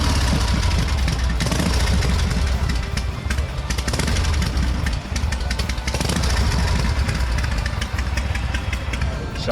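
A 1982 Harley-Davidson Shovelhead motorcycle warming up at a bike night, its engine idling loudly and steadily close by with a deep, continuous rumble and no break.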